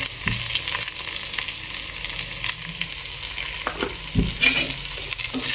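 Crushed peanut powder is stirred and mixed into a freshly steamed dish, with irregular scraping and knocking strokes over a constant background hiss, close and fairly loud, no talking.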